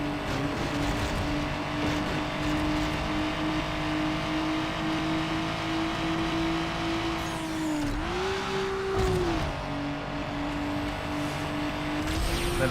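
Race car in Need for Speed Underground Rivals accelerating on nitrous: a steady, loud engine drone with a tonal whine that holds, dips and climbs again as the car shifts and builds speed, with no talk over it.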